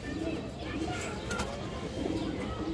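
Pigeons at a breeding farm coo softly in repeated low, rolling calls, fairly faint against a murmuring background where a voice is faintly heard.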